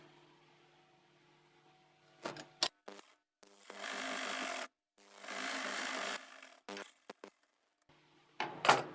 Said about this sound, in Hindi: ये देखिए अब हम इसमें सीधी सिलाई लगा देंगे।